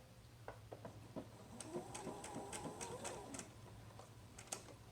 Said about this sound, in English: I'm going to do the 1/4 inch seam along here.